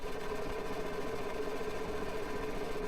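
A simulated V22 engine runs in an engine simulator game, a steady, continuous buzzing drone with an even mechanical tone throughout, close and uninterrupted.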